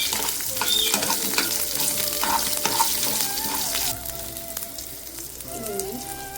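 Dried red chilies, small shallots and green chilies fry in hot oil, giving a dense, continuous crackling sizzle with stirring throughout, close and loud, with no voices.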